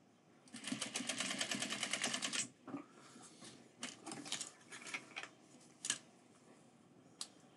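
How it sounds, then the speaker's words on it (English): A sewing machine stitches the sweatband of a reworked 5-panel hat in a fast, even two-second burst, then stops for a few lighter clicks and handling noises, close and quiet. "I'm just going to stitch for like an inch maybe."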